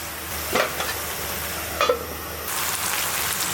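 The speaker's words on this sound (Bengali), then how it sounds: "একবারে মাছের তেল উপরে আসছে আর পুরপুর সাউন্ড শোনা যাচ্ছে" Fish fries in oil, with mustard oil added, making a continuous bubbling sizzle close by, interrupted by two brief louder crackling bursts before the hiss brightens and steadies.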